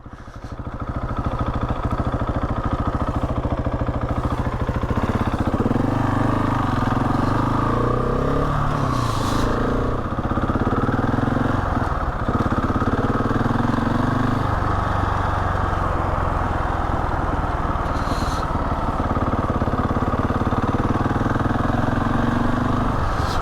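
A Husqvarna 701 motorcycle on a winter ride to the seaside gives a continuous, loud engine drone that rises and falls slightly in pitch as the rider works the throttle, close to the microphone.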